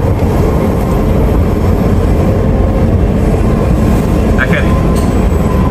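A driverless underground metro train rumbles loudly and steadily along its tunnel, a dense continuous roar with brief higher squeals near the end.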